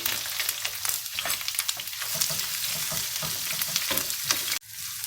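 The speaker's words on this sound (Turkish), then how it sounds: "Tavamızın içerisinde biberlerimizi 3-4 dakika kadar soteledim." Green peppers sizzle and crackle steadily in a hot frying pan, with occasional stirring scrapes, close up and without talk; the sound cuts off sharply near the end.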